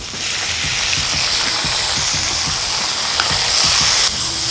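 Tomatoes go into a pan where onions and garlic are already frying for an egg thokku, giving a steady, close sizzle with a run of soft, regular scraping ticks. Nobody talks.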